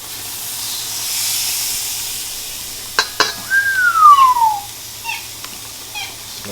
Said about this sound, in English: there's something super satisfying about the sound of the sizzle